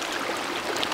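Fast-flowing, clear river water rushing over stones, a steady close hiss and burble with no voices.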